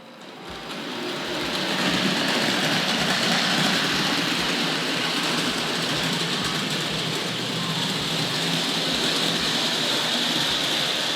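A Tri-ang model train locomotive runs along its track, building from quiet into a steady whirring, rattling hum with faint regular clicks of wheels over rail joints.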